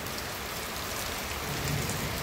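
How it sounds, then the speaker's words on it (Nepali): Heavy monsoon-style rain pouring steadily outdoors, a dense, even hiss of falling drops with no gaps across the short stretch. "बिहानैदेखि झरी परेको छ।"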